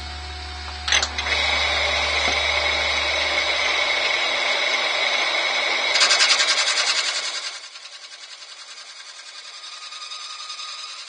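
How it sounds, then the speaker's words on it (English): A bowl gouge smoothing a burnt olive ash bowl spinning on a wood lathe, loud steady whirring scrape with a bright cutting hiss that swells midway, then the motor's low hum drops away and a fainter rasp trails off. "Smooth that back off with the bowl gouge and try again."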